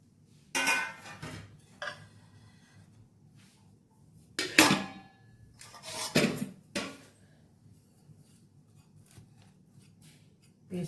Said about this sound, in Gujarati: આપણે એને પાટલી ઉપર મૂકીને કટિંગ કરી નાખશું